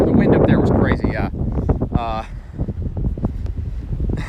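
Strong wind buffets the microphone outdoors in Washington, D.C., a loud rumbling roar that dips briefly and then keeps gusting, with a voice talking over it.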